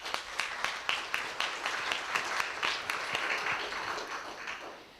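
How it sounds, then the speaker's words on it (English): An audience at a Malaysia Economic Monitor seminar applauds: a few sharp individual claps at first, then steady, fairly faint group clapping that gradually thins out. "So please give everyone a big applause."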